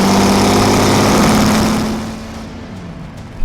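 A 1955 Ferrari 410 Sport Spider by Scaglietti runs with a loud, steady engine drone that gradually fades and drops in pitch as it pulls away, leaving a quieter background with a few faint ticks at the end.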